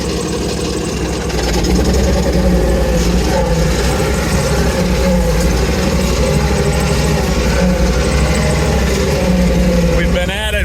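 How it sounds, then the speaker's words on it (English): The heavy diesel engine of an AGT Industrial KRW23 end loader runs steadily at a low idle throughout in hot weather, a continuous rumble with a slight rise near the end. "the engine hasn't stalled yet from heat"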